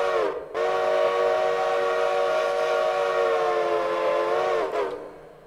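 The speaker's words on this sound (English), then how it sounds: "These were occasionally equipped, I guess, with a Nathan 5 chime" A Nathan five-chime steam locomotive whistle in the Railroader game sounds one long, loud, steady multi-tone blast of about four seconds, opening and closing with brief breaks.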